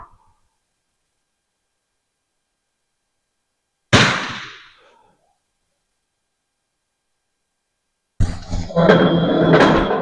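A MAS 49/56 rifle fires two sharp shots outdoors, the first a single loud crack with a decaying tail, the second a few seconds later followed by noisy rumble and handling.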